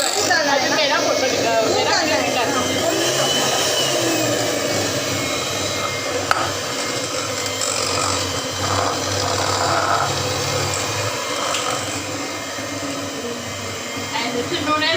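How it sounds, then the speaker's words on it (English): Electric whisk creaming butter and powdered sugar for an eggless cake, a steady whirring hum throughout, close, with people talking over it in a home kitchen. "this is known as whisking of the creaming and whisking both. Powdered sugar and butter."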